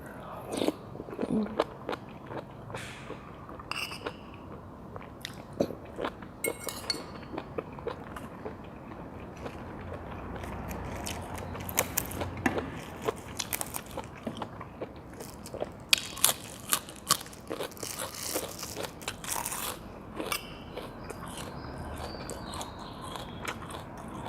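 Close-up crunchy chewing of stir-fried oyster mushrooms, with irregular crisp bites and squelchy mouth sounds throughout, fairly quiet with occasional louder crunches.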